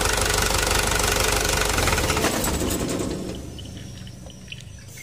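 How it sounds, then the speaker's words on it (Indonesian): A Hino Dutro or Toyota Dyna truck diesel engine that won't shut off, running with a loud, rapid mechanical clatter that fades away after a few seconds, leaving quiet with a few light clicks. "Mesin mau hidup tetapi tidak mau mati."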